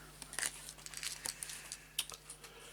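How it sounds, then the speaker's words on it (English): A deck of mediumship conversation cards being shuffled by hand, giving quiet, irregular papery riffles and soft card slaps at close range, with no talking. "So I thought we'll use these mediumship cards here, these conversation type cards, and we'll just give them a shuffle."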